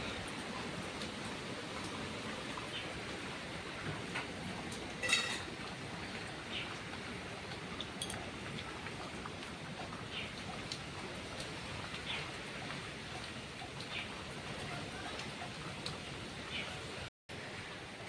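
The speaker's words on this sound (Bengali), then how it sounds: "বৃষ্টি হয়েই যাচ্ছে অনবরত, কোনো থামাথামির সিন নেই" Heavy rain pours during a storm in a steady, dense hiss that never lets up, filling the whole stretch with constant noise.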